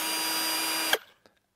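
A cheap cordless drill bought from Amazon runs steadily with a close, loud motor-and-gear whir, then cuts off abruptly and spins down, followed by a couple of faint clicks.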